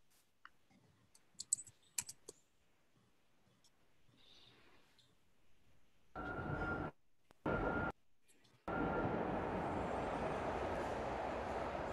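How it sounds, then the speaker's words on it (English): A New York subway ride in a film scene: after quiet clicks, a loud steady rumble of the train starts, breaks off briefly twice, then returns and holds as a continuous roar to the end. "it starts with a section in the New York subway"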